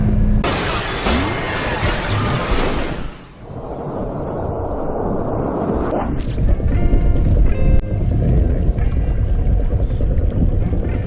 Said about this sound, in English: we are now going on this little boat